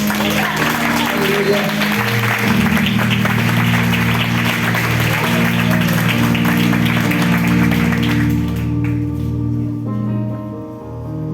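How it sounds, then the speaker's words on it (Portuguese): A church congregation applauds God during a Portuguese-language worship service. Steady, loud clapping sounds over sustained keyboard-like music, then cuts off abruptly near the end, leaving the tones to ring out. "Você pode aplaudir a Deus por isso?"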